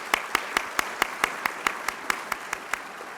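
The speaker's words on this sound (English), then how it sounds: "Let's give a round of applause." Evenly spaced claps, about a dozen in three seconds, ring out sharp and steady in a quiet hall as an audience at a formal lecture welcomes arriving guests.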